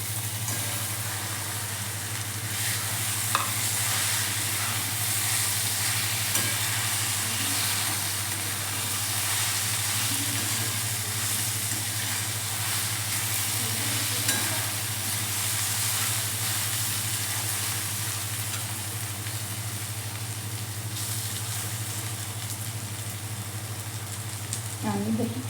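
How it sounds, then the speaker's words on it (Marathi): Okra and coriander fry in a pan with a steady, even sizzle and hiss that continues without a break, close by. "कोथिंबीर आणि भेंडी फ्राय करून घेऊ."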